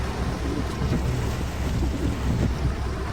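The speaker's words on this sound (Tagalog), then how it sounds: "Pero tingnan nyo yung lakas ng ulan." Heavy rain driven by strong wind, a dense continuous roar with gusty buffeting, loud and unbroken throughout.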